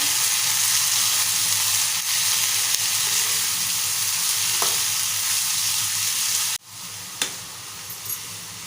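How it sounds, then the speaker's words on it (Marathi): Chopped cabbage sautés in a pan with a loud, steady sizzle and hiss, then a sudden drop to quieter sizzling near the end with a couple of faint utensil knocks. "आता आपण चिरलेला कोबी घालूया परतून घेऊया"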